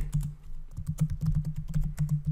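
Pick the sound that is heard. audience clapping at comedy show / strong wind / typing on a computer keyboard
typing on a computer keyboard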